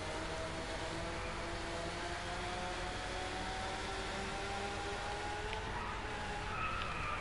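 A car in the Driveclub racing game runs on gravel, with a steady hiss of loose stones and tyre noise under a rising engine whine. The sound is fairly quiet and continuous, and no one speaks.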